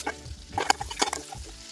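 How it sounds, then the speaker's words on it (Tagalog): Ginger sizzles and fries in a pan while a utensil stirs it, with short scraping strokes over a steady crackle, close and fairly quiet, no talking. "So, gisa muna ang luya."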